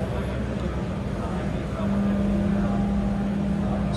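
An electric backhoe loader raises its loader bucket, a quiet, steady hum that picks up partway through with a faint whining tone, under outdoor background noise.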